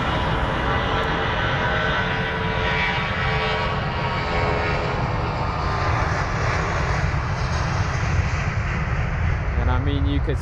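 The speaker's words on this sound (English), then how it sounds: "you could see there we had a departure on this runway and we had an arrival on 27 left" Jet airliner on the runway at London Heathrow, a loud continuous engine roar with a steady whine that holds throughout, close and dominant, with a voice talking over it.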